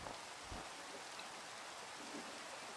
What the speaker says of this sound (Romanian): Se aude de parcă ar ploua.